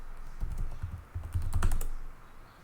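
Typing on a computer keyboard in a Linux terminal, with irregular bursts of close, crisp key clicks and a few louder strikes, with no talking.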